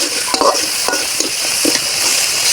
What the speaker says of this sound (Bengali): এই যে এদিকে মশলাটা প্রায় কষানো হয়ে গেছে।